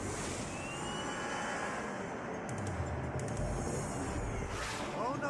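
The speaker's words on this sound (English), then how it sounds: "he spots Rocky attempting to get away in a jet" Jet aircraft engine in the video game True Crime: Streets of LA, a steady loud roar across the whole stretch with a deeper rumble swelling midway, under game music or voice.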